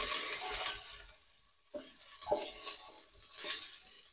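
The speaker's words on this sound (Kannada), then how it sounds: "ಸೊ ಒಂದ್ ಸ್ವಲ್ಪ ಫ್ರೈ ಮಾಡ್ಕೊಳ್ಳೋಣ." Onion frying in a pan with ginger and garlic for pongal, giving a steady broad sizzle that swells with a few stirring strokes, close up, with no talking.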